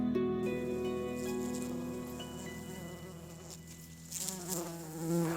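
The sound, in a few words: bees and other pollinators buzzing among food forest flowers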